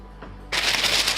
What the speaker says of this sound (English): I'm going to wrap it in parchment paper and put it in the refrigerator